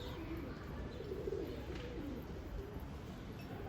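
Pigeons in a grandfather's coop with young birds give faint, low cooing, with one fuller coo near the middle, against a quiet, hissy background.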